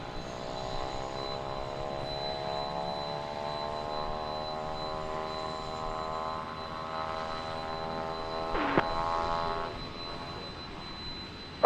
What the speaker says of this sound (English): And this is a plane again that just came in from Austin, Texas.